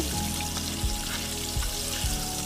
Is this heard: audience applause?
no